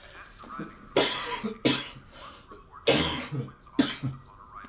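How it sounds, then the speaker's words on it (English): Four loud, harsh coughs, each a sharp burst with a raspy tail, spaced irregularly across a few seconds, close to the listener with faint room noise between. "Sorry guys, I'm a little bit sick. Got a nasty cough."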